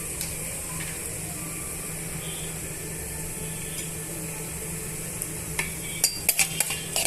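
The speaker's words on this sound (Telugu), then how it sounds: "ఇప్పుడు మనం ఈ నూనెలోనే 1 టేబుల్ స్పూన్ ఆవాలు, 1 టేబుల్ స్పూన్ జీలకర్ర, 1 టేబుల్ స్పూన్ పచ్చిశనగపప్పును వేస్తున్నానండి" Mustard seeds, cumin and chana dal sizzle in hot oil for cashew upma, a faint steady hiss with a few spoon clinks and taps against the pan toward the end.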